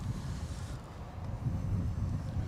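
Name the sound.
breeze gusting on outdoor microphone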